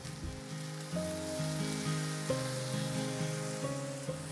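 Garlic and onions frying in about three tablespoons of olive oil give a steady, close sizzle that runs throughout, with soft background music and no talk.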